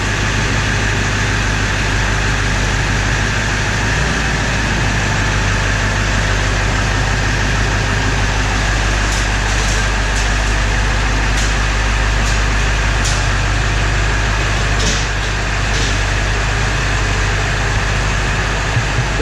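A Ford 7.3 diesel engine, fitted with new glow plugs and valve cover gaskets, idles in a loud, continuous rumble with a steady low hum and no voices over it.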